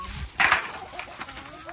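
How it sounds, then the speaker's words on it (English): A chicken clucks briefly with a short burst of sharper calls, then softer scattered clucks amid faint background noise. "the chickens are coming"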